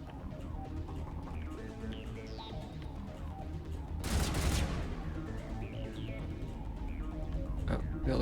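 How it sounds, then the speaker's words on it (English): Bursts of gunfire from the video game Mass Effect 1, fairly faint beneath game sounds, with one sharp, louder crack midway, followed by continued shooting. "Oh, y'all are shooting at something."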